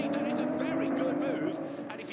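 GT4 race cars at Spa-Francorchamps roar through the braking zone into La Source, a continuous loud engine drone with shifting pitch heard under a commentator's voice.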